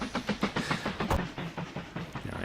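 A train rolls along the tracks in the railway-building game Mashinky, giving a steady, regular clickety-clack with a soft hiss beneath it. The sound is alone and moderately loud.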